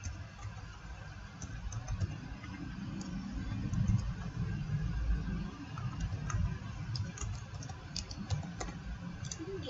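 Keys on a computer keyboard click in a quiet, irregular run as an email address is typed, faint and close, with no speech.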